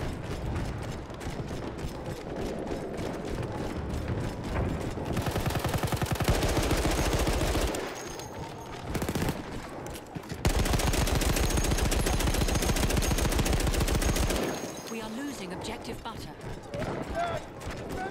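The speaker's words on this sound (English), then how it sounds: "Enemy machine gun!" Sustained machine gun fire in Battlefield 1 clatters in long rapid bursts, loud and close, broken by short pauses, with mechanical ratcheting and battle noise around it and voices calling out.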